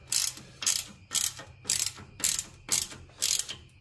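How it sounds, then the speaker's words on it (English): A Jeep Wrangler JK being driven gives a regular, repeating mechanical clunking from its suspension, roughly two knocks per second, each a sharp rattling burst over a low, quiet engine drone. "Hoping this is just the clunk noise."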